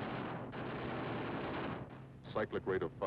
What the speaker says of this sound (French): Avec 8 mitrailleuses, calibre 50, on dégage le terrain rapidement.